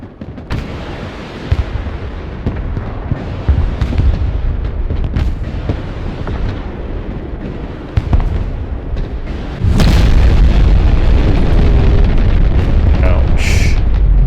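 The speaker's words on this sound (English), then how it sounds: "It was a nasty nuke." A nuclear strike detonates in the military strategy game Broken Arrow amid ongoing battle noise, ending in a sustained, heavy, loud roaring rumble that swells and holds over the last seconds after steady distant artillery-like booms.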